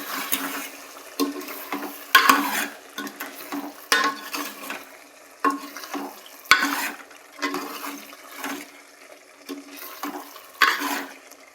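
Kathiyawadi undhiyu being stirred with jaggery and lemon juice, giving rhythmic wet scraping and squelching strokes, fairly close and repeated every second or so.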